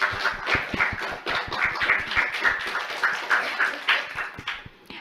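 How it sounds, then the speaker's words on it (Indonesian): Studio audience clapping for a young performer at a children's talent show, a steady patter of hand claps running through the whole stretch at moderate loudness with a little background chatter. "Sekali lagi kita kasih tepuk tangan untuk Aulia."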